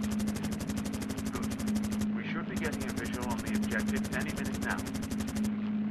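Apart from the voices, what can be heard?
machine gun fire in a Battle of Britain flight video game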